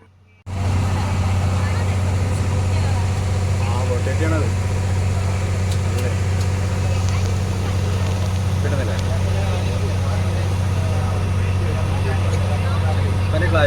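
Motorboat engine droning steadily and loudly throughout a backwater boat trip toward Vaikom in Kottayam district, a constant low hum under faint background chatter.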